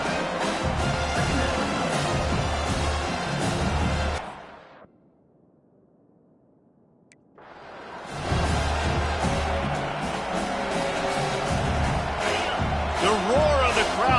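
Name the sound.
football stadium crowd roaring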